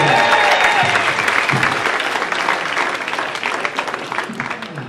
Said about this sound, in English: a round of applause for Sean? What a great job he did